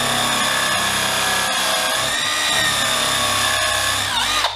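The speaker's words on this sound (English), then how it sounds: "this is a 12 mil countersink, I then countersunk them" A power drill countersinks screw holes in a wooden stair runner with a 12 mm countersink bit, giving a loud, continuous high whine with brief dips as the bit bites, winding down at the end.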